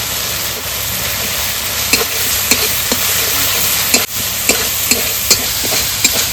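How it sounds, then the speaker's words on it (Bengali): Spice paste of coriander, cumin, turmeric, salt and green chilli paste stir-fried in a pan for a mustard fish curry, a steady loud sizzle broken by sharp scraping taps of the spatula at irregular intervals. "তো মশলা কষানো হয়ে গেছে"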